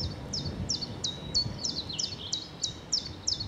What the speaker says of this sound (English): Chiff-chaffs, robins, dunnocks.